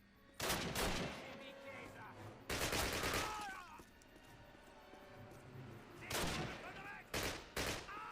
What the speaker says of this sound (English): Get the good old Sten gun out.